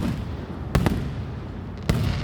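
Loud fireworks burst at an outdoor Fourth of July show in Montgomery, two sharp booming explosions about a second apart over a rumbling background of distant pops and crowd noise.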